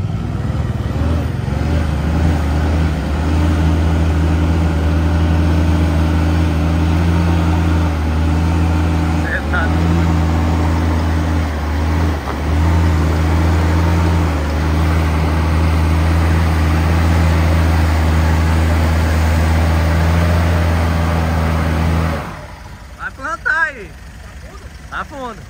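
A pickup truck's engine roars as the vehicle sits stuck in mud. A loud, continuous, close drone holds for over twenty seconds before cutting off abruptly, after which voices are heard.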